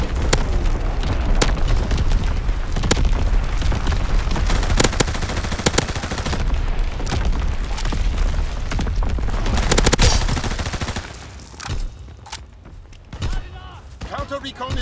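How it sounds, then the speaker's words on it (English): Video game mortar strikes with sharp repeated explosive booms and bursts of gunfire in rapid irregular volleys, loud and dense for about twelve seconds before thinning into scattered blasts. "Sending mortar rounds, zone and sweep."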